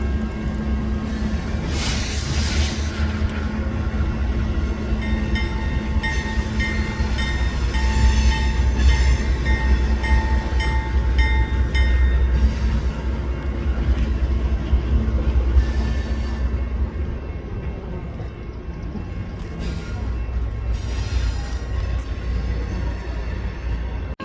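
A yard locomotive rumbles steadily at the Galesburg rail yard, its low diesel drone mixed with metallic rail clatter and faint wheel squeals, moderately close and continuous throughout.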